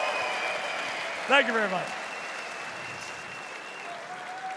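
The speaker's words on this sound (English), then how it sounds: "Give it up one more time for Gaming Gladiators!" Esports arena crowd at a playoff match of ESL One Berlin Major 2023 applauding after a team is hailed, a short burst of clapping and cheering under a commentator who thanks the audience before the noise settles into hall ambience.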